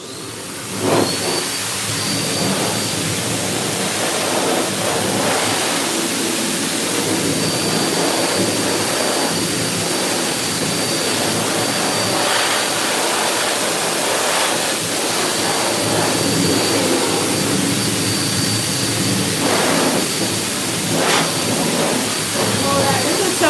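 Loud pet dryer blasting air to blow water off a Havanese dog's coat, a steady roaring hiss running the whole time with faint voices underneath.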